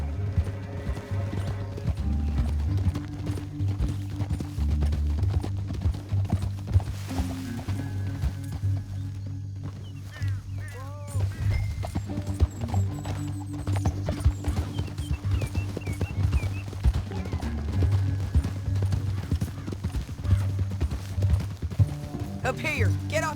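Horse hooves clip-clop steadily in a Red Dead Redemption 2 game soundscape, with a whinny partway through, over background music and occasional voices.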